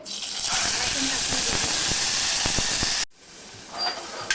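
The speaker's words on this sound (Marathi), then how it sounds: "आता आपण ह्याच्यामध्ये आलं लसूण आणि कोथिंबिरीचं वाटण टाकायचं आहे" Ginger, garlic and coriander paste hits hot oil in a pan for a potato curry, giving a loud, steady, close hiss and steam roar with scattered crackles that cuts out suddenly near the end, leaving a quieter sizzle.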